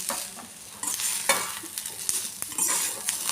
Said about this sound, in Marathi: आपला कांदा आता चांगला फ्राय झालेला आहे